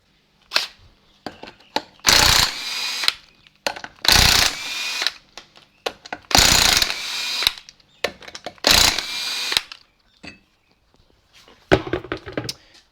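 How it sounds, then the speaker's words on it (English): Impact wrench or power tool working on the wheel of a Mk3 Classic Mini with a suspected collapsed wheel bearing, heard as four loud broadband bursts separated by short clicks and clatter, close by. "Let's take that wheel off and figure this out."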